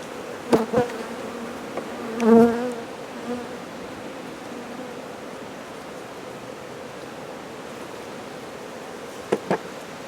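Steady low insect buzzing of bees fills the background, with a few brief louder buzzes and knocks passing close by.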